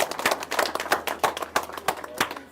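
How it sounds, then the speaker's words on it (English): Applause for entrants at a koi show awards ceremony: a small group clapping in uneven, scattered bursts, quiet and somewhat distant, with no talking over it. "let's give all the entrants also a nice warm applause"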